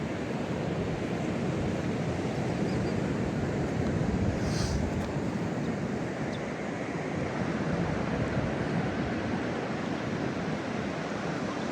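Ocean surf crashes steadily on a San Francisco Sunset District beach, a dense, continuous roar of waves mixed with wind buffeting the microphone, with no talking.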